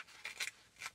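Paper being ripped for a junk journal signature: a short, close tearing rasp in two or three quick bursts, soft and alone.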